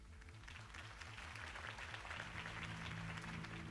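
A crowd applauds steadily after a political campaign speech by Harvey Dent in the Batman Telltale video game, a sustained wash of clapping over a low music bed.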